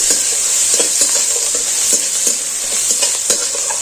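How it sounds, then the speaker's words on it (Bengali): Whole cumin seeds, ginger paste and chopped green chili sizzle in hot oil in a pan, with a bright continuous hiss and light scraping strokes of a spatula stirring at an even pace. "দিয়ে দিচ্ছি গোটা জিরে দিয়ে দিচ্ছি আদা বাটা আর কাঁচা লঙ্কা কুচি একটু নাড়াচাড়া করে ভেজে নিচ্ছি"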